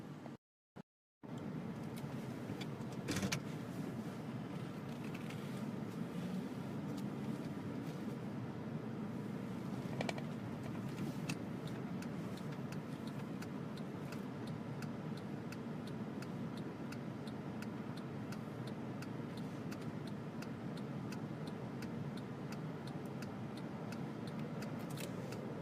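A car drives along a highway east of Indianapolis. The steady road and engine rumble is heard from inside the cabin for the whole stretch, with a few faint clicks and rattles over it.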